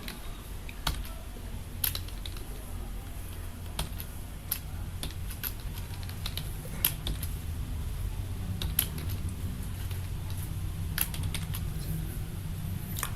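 Keys on a computer keyboard tap out a spreadsheet formula in Excel as quiet, close, irregular clicks with short pauses between bursts, over a low room hiss.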